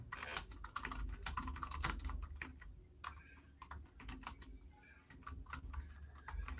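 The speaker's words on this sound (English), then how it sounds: "Excuse my typing." Quick, irregular clicking of keys on a computer keyboard, typed in bursts with short pauses, faint and close with a low hum underneath and no voices.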